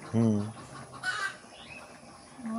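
A chicken gives a short harmonic cluck near the start, followed by a few fainter calls over quiet background noise.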